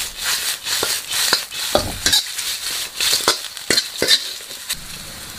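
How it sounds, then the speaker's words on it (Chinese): Fried prawns tossed with salt and pepper powder in a wok, a close, steady scraping and clattering of a spatula against metal with light sizzling underneath, several sharper knocks scattered through, no voices. "炒香了之后放入炸好的大虾，撒上椒盐粉，再次翻炒均匀即可出锅装盘"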